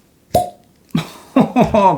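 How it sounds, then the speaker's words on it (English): A cork pops from a whisky bottle, a single sharp pop ringing out close by, followed by short bursts of nearby voice. "here we go, cork pop"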